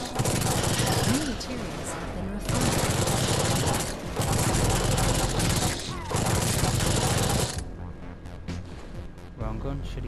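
Gunfire in the video game Genesis Alpha One comes in loud, sustained bursts of dense rapid shots, separated by short gaps, then gives way to quieter game ambience near the end.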